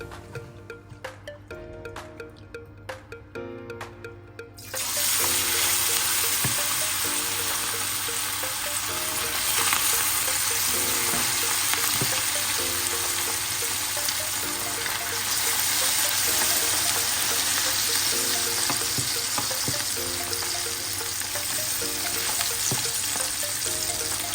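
Anchovies drop into hot oil and set off a loud, steady, dense sizzle that fills the scene for about twenty seconds, after a few seconds of quieter clattering and prep noise.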